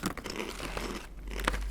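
Crunchy oyster mushroom chips fried in sunflower oil being chewed close up, with crinkly crunching bites and faint packet rustle in short bursts.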